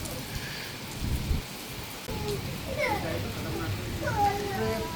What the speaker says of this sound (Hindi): कितनी तेज़ बारिश होने लगी है अचानक शाम के 5:30 बजे।